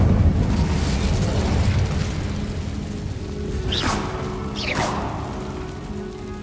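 The Incendio fire spell is cast in a Harry Potter video game, heard as a rumbling, roaring burst followed by two quick rising whooshes. Nobody talks over it.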